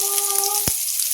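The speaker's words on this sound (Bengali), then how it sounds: "আর দেখো পেঁয়াজ কুচোটাও দিয়ে দিলাম" Chopped onion hits hot oil with panch phoron five-spice, dried red chili and bay leaf for a tangy fish curry, giving a brief, steady sizzling hiss with a faint tonal hum beneath and a few light clicks.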